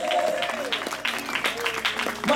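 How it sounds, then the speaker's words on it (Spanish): A church congregation in Zacualpa applauds a parish group, a rough patter of clapping running under a preacher's voice. "que se oigan esos aplausos para nuestros parroquiales, hombres y mujeres"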